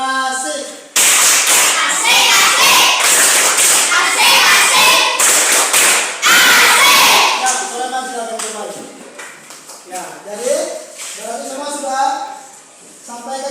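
Classroom of students performing a rhythmic 'tepuk asik' clapping cheer together, loud and close, with patterned bursts of claps mixed with children's voices and chanting throughout.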